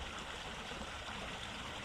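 Water in a canal bypass channel at Fradley Junction on the Coventry Canal bubbling and rushing steadily, a continuous close gurgling flow with no breaks.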